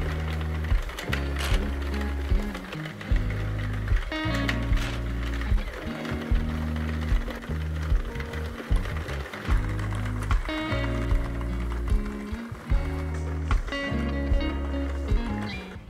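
A circular knitting machine runs with yarn feeding through it, a steady mechanical clatter with a repeating ratchet-like rhythm and periodic louder clicks, continuous and close, with no talking.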